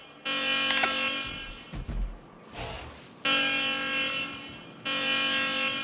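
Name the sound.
alarm activated in The Outer Worlds video game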